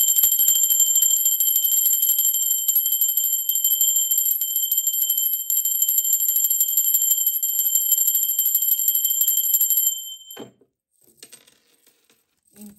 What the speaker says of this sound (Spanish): Intensa la campana, muy intensa.